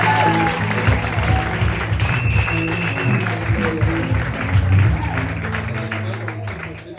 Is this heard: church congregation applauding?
yes